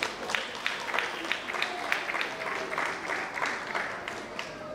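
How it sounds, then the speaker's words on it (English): Audience at a preschool and primary school graduation ceremony breaks into sustained applause, a dense patter of many hands clapping at moderate distance for several seconds without a break. "Please, can we clap him, please?"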